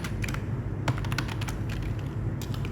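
Rapid typing on a computer keyboard, close and clear, with irregular bursts of key clicks running throughout and no talking.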